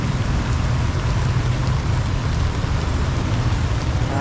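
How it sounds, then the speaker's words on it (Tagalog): Heavy, sudden rain pours down in a Hong Kong street: a dense, steady roar of close-up downpour with a low rumble beneath it and no voices. "Grabe ang lakas ng ulan"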